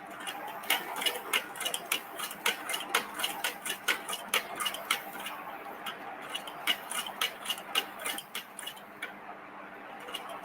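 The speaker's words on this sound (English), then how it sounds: "Now I'm coming forward and sewing in the ditch." A sewing machine stitching in the ditch along a quilt seam, a steady close rapid rhythm of needle taps and mechanical clatter running throughout, with no talk.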